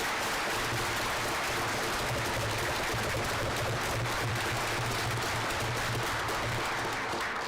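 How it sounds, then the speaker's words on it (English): At a school board meeting, the audience gives a girls' team and their coaches a sustained round of applause, dense even clapping filling the room, with a faint low hum underneath. "Please give a round of applause"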